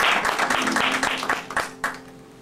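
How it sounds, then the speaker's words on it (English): An audience at a talk on cowboy and western radio gives a round of applause that is already thinning out: scattered individual claps, loud at first, that grow sparser and fade within a couple of seconds. "Let's give him a round of applause"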